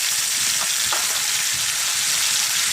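Tomatoes go into a pan of squid adobo, Kapampangan home cooking, and a loud, dense, even sizzle fills the short stretch with a couple of faint stirring taps underneath, with no voices.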